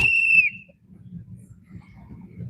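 A short, piercing whistle blast marks boats finishing a sailing race at the ILCA dinghy nationals. It sounds once, loud and clear, over low outdoor rumble and wind.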